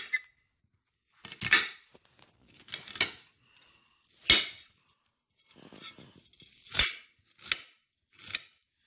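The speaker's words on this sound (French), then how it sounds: "Nous allons éplucher l'oignon, puis le couper en petits morceaux." A knife cuts an onion into small pieces for a Sanji-style curry. About eight separate sharp clicks and taps of the blade against the board are spaced out over several seconds, with no talk.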